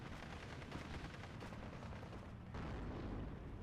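Artillery fire rumbles in the real-time strategy game Steel Division 2, a dense, continuous barrage of booms and blasts that sounds quiet and distant, with one louder burst near the end.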